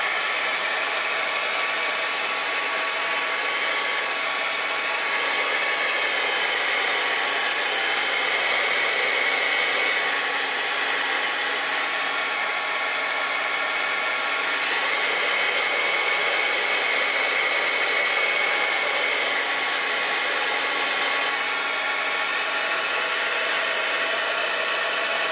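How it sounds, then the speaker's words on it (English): A heat tool blows hot air over a paper craft in one loud, continuous, even whoosh that lasts the whole stretch with no talking. "let's just heat it, hit it, oops, hit it with the heat tool"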